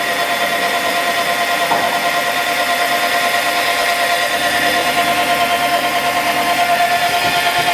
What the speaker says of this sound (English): The whining noise you hear is the plastic rubbing on the chain.